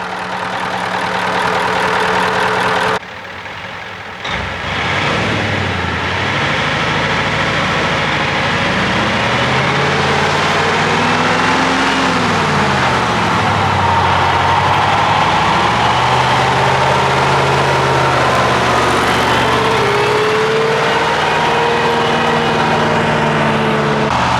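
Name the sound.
Ford LNT9000 truck Cummins V8 diesel engine idling and surging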